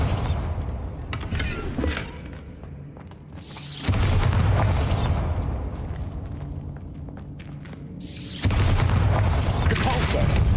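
Heavy booming blasts from the Bombarda spell in Hogwarts Legacy during a wand battle against Rookwood, with two strong rumbling surges among crackling debris and scattered impacts, plus some voices.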